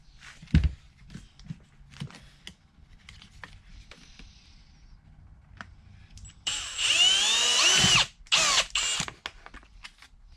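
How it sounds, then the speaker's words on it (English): Scattered handling clicks and taps, then a power drill with a small bit whirs loudly for over a second, followed by two shorter bursts, close by, while installing radiator guards on a Yamaha YFZ450R ATV. "And get a smaller drill bit."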